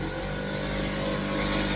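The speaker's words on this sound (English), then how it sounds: "while the air compressor was reloading" An air compressor refilling at a door trim installation gives a steady mechanical motor hum with a constant drone, running nearby without interruption.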